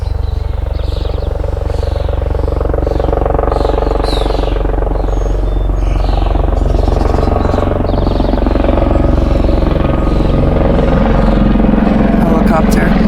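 A loud, steady helicopter drone with pulsing rotor thump, sustained throughout and dominating, with a voice faintly mixed in.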